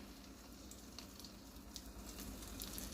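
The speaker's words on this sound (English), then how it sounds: "You can hear it sizzling a little bit." Quiet, soft sizzling of chicken frying in a pan, with faint crackles and pops rising slightly toward the end.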